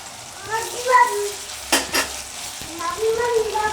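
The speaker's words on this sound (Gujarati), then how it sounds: "આ રીતે તેલ છૂટું પડી જાય ત્યાં સુધી પકાવવાનું." A tomato and green garlic chutney cooks in oil in a pan, with a close sizzle under spoon stirring and a couple of sharp scraping clacks against the pot, while a voice speaks faintly.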